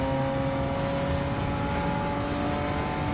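Turbocharged sports car engine in a Gran Turismo 7 race on Grand Valley highway, droning steadily and loudly with sustained harmonic whine throughout, no pauses or voices.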